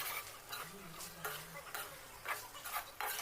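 Chicken masala gravy for a dhaba-style dish is stirred in a pan: rhythmic scraping spoon strokes over a soft simmering sizzle, close and fairly quiet, with no speech.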